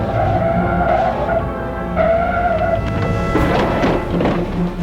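Tires skid and squeal as a Maruti van forces a car to a stop, with a long screech under engine noise and a harsher scraping burst toward the end.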